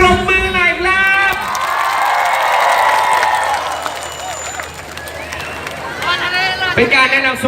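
A concert audience claps and cheers in a broad, noisy wash of applause and whoops that swells and then fades, with loud amplified voices speaking before and after.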